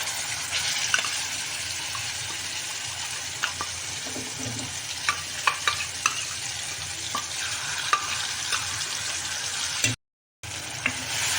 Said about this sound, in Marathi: आता ही चटणी त्याची तेल सुटेपर्यंत अशी चांगली परतून जाईल